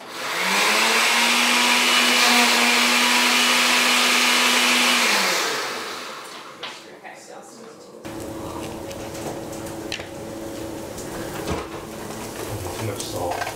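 A kitchen blender runs loud and steady for about five seconds with a rising whine, then winds down and stops, followed by quieter kitchen clatter and room noise.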